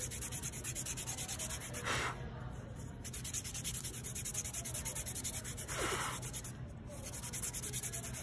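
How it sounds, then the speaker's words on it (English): A paper blending stump rubbed against a sandpaper paddle after charcoal use: quiet, soft scratchy rubbing strokes in a steady rhythm, with two brief breathy puffs as dust is blown off, over faint background hum. "I'm just rubbing my blending stump on my sandpaper paddle, blowing off the excess"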